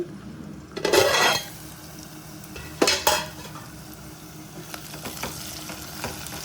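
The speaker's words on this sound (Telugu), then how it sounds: "ఉల్లిపాయలు మగ్గాయేమో చూద్దామండి." Onions frying in a pan for a bitter gourd curry, with a low steady sizzle and two louder bursts of stirring and clattering utensils against the pan.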